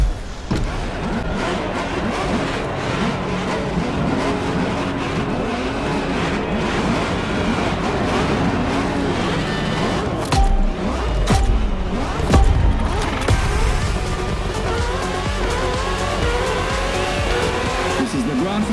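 Race cars in The Crew Motorfest roar through a grand finale championship race, engines droning continuously with tire squeals and skids, and a voice talks over the racing throughout.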